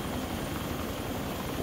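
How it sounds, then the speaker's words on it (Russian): A helicopter engine running in the video game ARMA 2, a steady, loud, continuous rotor and turbine roar that fills the whole clip without a break. "Все, я завожу вертолет."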